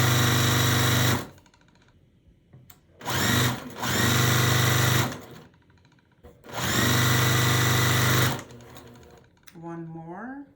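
A sewing machine stitches quilt block pieces together in three loud, steady whirring bursts separated by pauses, close up, with a brief voice at the very end.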